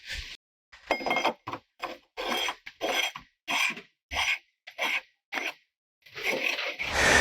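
A chuck being wobbled back and forth onto a QL55 down-the-hole hammer gives a series of short metallic rasping scrapes in uneven bursts, close and fairly clear, with brief pauses between strokes and no talking.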